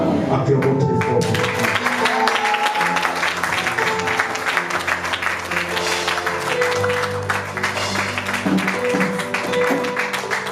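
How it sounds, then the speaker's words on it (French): A church congregation claps loudly and continuously in celebration, a dense sustained applause with cheering voices and music mixed in. "Acclamons très fort."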